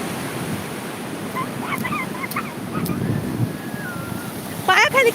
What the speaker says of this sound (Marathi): मोठ्या लाटा येतात बघ तिकडून ते बघ